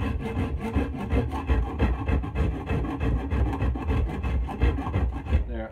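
Edge of a wooden axe handle being rounded over with a rasp, steady rhythmic scraping strokes close by with no talking.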